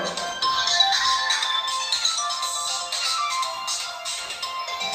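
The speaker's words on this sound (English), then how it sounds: "Don't answer the phone." A telephone rings with a bright, repeating electronic ringtone melody, loud and continuous, with no talk over it.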